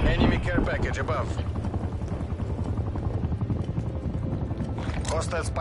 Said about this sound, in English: Enemy care package above.